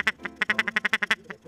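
Waterfowl calls of geese in a rapid run of about a dozen honking, nasal notes, close and clear with brief gaps, alone without talk.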